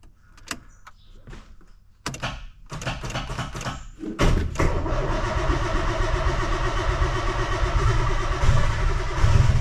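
Nissan A31 Cefiro with a faulty starter after long storage: a few loud, halting cranking bursts with gaps, then a sustained rough engine roar close by.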